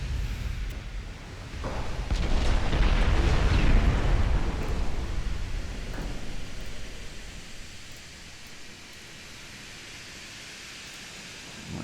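Heavy 8-inch naval guns boom in a game sea battle, a broad rumbling roar swelling around two to four seconds then fading into a steady low wash of noise.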